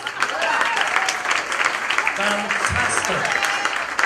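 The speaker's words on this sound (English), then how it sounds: "I feel not everyone got such a fair round of applause on the way up" An audience at a mentalism show in Florida gives steady applause for the volunteers on stage, dense and continuous clapping filling the room while a voice speaks briefly over it.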